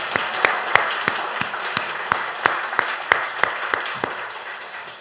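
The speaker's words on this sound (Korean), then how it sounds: "하나님께 영광 박수로 우레와 같은 박수로 감사를 드리겠습니다" Slow, evenly spaced claps during a Sunday church service, about a dozen sharp strikes in a steady rhythm over a quiet background.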